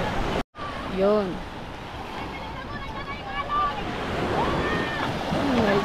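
Steady ocean surf, growing larger in the afternoon, rushes and washes continuously, with people talking over the waves.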